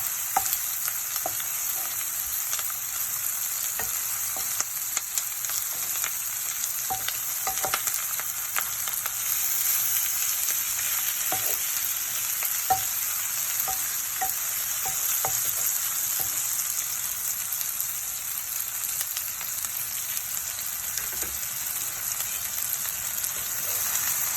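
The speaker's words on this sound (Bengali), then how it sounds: "পেঁয়াজ মরিচ কিছুটা ভাজা হলে আমি নামিয়ে ফেলবো।" Onions and chillies fry in a pan for an ilish fish dish, producing a steady, even sizzle with scattered small pops and ticks, continuous and close throughout with no talking.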